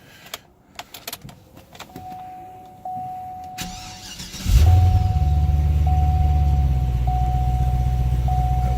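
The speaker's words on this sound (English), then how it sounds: "Let's see what happens when we start it up here." A 2009 Cadillac CTS-V cranks and fires into a loud, deep idle that holds steady and close after a few seconds of faint interior clicks, with a chime repeating in the background.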